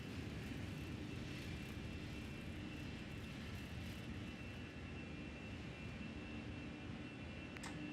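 Fenix A320 airliner in Microsoft Flight Simulator 2020 at full takeoff power, a loud, steady jet engine roar with a constant whine holding throughout, no voices.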